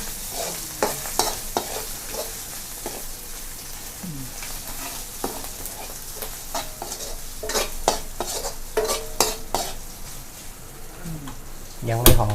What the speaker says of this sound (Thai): ผัดให้หอมนะคะ